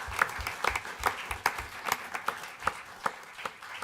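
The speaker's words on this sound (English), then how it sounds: "if we could have another big round of applause for Cecilia" Scattered clapping from a small audience at a city council meeting, with sparse, uneven claps that carry only moderate volume and come from a modest crowd rather than a packed room.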